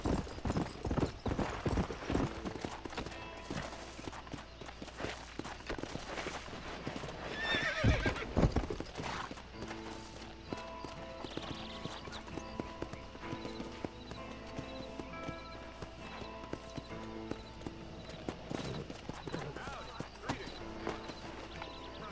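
Horse hooves clip-clop steadily in Red Dead Redemption, broken by a loud whinny partway through, with game ambience and music running underneath.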